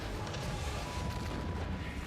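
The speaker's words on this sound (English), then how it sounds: "Beam! Beam cannon." A beam cannon firing in Genshin Impact during a wargame event, a dense, steady roaring blast that fills the whole two seconds without a break, loud and close, with no voices over it.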